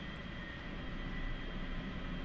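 An A-4E jet rolling out in DCS World, flown as a Blue Angels solo, makes a faint, even engine roar that holds steady with no breaks or speech.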